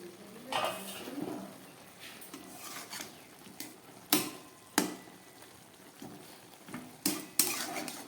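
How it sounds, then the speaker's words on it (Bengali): A metal lid goes onto a cooking pot of boiling beans, eggplant, potato and greens on a gas stove. Close, fairly quiet clanks and clinks ring out, with a few sharp knocks among softer scraping handling. "তাহলে চলুন ঢাকাটা দিয়ে দিচ্ছি"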